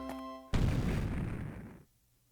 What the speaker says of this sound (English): What was that? An explosion? That noise came from the basement.